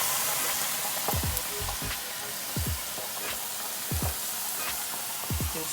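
Rap Snack chips sizzle and crackle loudly in hot frying oil. Repeated sharp bursts of spitting and popping rise over a constant hiss.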